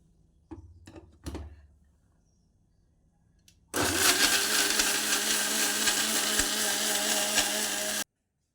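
A kitchen blender blends dates, carrots and condensed milk into juice, starting abruptly after a few light clatters and running at a loud, steady whir for about four seconds before cutting off.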